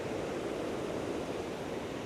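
A waterfall where people bathe gives a steady, even rushing roar that fills the whole stretch, with no voices standing out above it.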